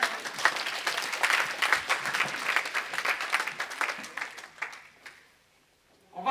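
A church congregation applauds in praise of the Lord with a dense, lively round of clapping that fades out near the end before a brief pickup.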